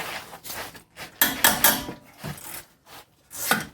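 A socket ratchet works on a rear suspension bolt of an Audi A4 B7, giving repeated close, rasping clicks in short bursts separated by brief pauses.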